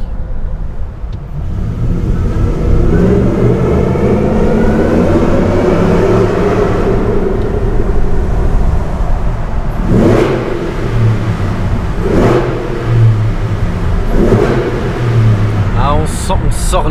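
A big supercharged V8 muscle car accelerates along a closed track section at the Top Marques supercar event, its loud engine roar sustained and swelling, with several sharp surges near the end and people talking underneath.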